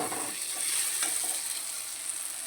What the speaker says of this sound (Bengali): দেখো মশলার পাশ থেকে তেল ছাড়তে শুরু করেছে মশলাটা খুব ভালো করে কষিয়ে নিয়েছি